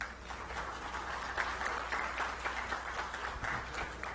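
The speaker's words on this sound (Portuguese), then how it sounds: "Receba os nossos aplausos." Applause from an audience at a national meeting of social observatories in Brasília, steady and fairly faint across the whole stretch, with individual claps scattered through a soft wash.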